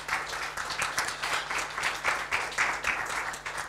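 Audience applause after a business presentation at a conference, a steady sustained clatter of many hands clapping throughout, moderately loud with a faint low hum beneath.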